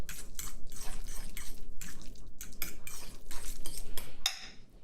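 Smoked salmon guacamole being mixed in a bowl, rhythmic wet squelching and repeated clinks of a utensil against the dish, close and moderately loud with no talking.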